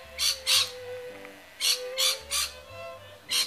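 Several birds squawk from a single tree, harsh raspy calls coming in pairs and short bursts of three, loud and close.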